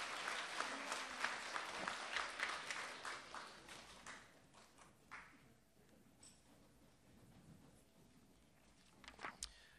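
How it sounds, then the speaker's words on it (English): Audience at a school spelling bee applauding the contestants: loud, dense clapping that fades after about four seconds into scattered claps, shuffling and footsteps, with a few final claps near the end. "Give them a round of applause, all 11 contestants."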